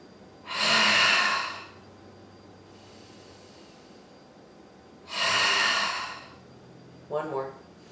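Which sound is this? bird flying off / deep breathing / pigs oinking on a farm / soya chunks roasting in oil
deep breathing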